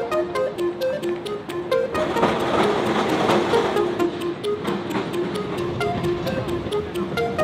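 A rattling old-fashioned Melbourne tram, the number 35 City Circle, rolls along with steady clicking and ticking from the wheels, a low rumble underneath, and faint background chatter from a packed car.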